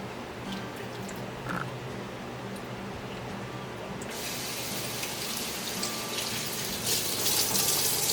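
Running tap water splashes steadily as soaked luffa gourd sponges are rinsed, a continuous close hiss that grows brighter and heavier in the second half.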